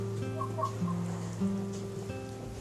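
Egg-laying hens in a crowded poultry house cluck softly, a few short nasal calls over a steady low mechanical hum and a faint pattering hiss.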